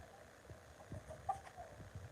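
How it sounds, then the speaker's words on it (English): An escaped chicken clucks in a few soft, short bursts, faint and somewhat distant against a quiet background, with no talking. "So's the escaped chicken."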